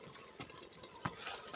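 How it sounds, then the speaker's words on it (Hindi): Water poured into a pan of fried aloo matar masala to make curry gravy, a soft, faint splashing and trickling with a couple of brief sizzling bursts, close by and without talk. "अब इसको ग्रेवी बनाने के लिए थोड़ा सा पानी डालेंगे"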